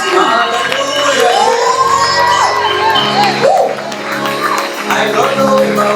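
A church congregation cheers and shouts in acclaim for Jesus at a thanksgiving night service, a loud, sustained mass of voices, whoops and shouts filling the space continuously.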